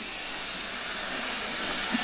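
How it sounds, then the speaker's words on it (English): A train on the Laxey line of the Isle of Man passes nearby, giving a broad, steady hiss and rush of steam and motion that stays at an even level, with no voices. "Here's the train coming past."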